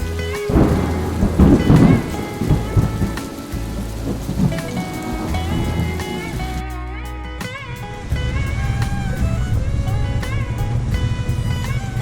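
Thunderstorm at sea aboard the sailboat Free Spirit on its maiden voyage, a heavy crack and rolling rumble of thunder early on, then steady hissing rain pattering on the deck.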